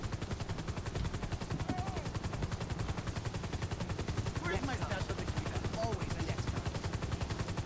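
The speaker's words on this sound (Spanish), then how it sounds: "nos va a matar el helicóptero" A police helicopter from the game LSPDFR hovers low overhead, its rotor chopping in a fast, unbroken rhythm that fills the scene; someone talks briefly under it.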